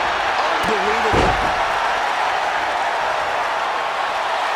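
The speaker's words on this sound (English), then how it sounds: "The sound of this crowd is deafening, and he's asking for more." Roaring arena crowd in the WWE 2K24 wrestling video game, a dense continuous wash of cheering with a few sharp slam impacts early on, loud and sustained throughout.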